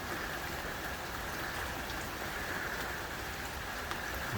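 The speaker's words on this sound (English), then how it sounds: "with all this rain from the last 12 hours" Heavy, steady rain pouring down during Hurricane Ian in September 2022, a dense continuous hiss with no pauses and no voices.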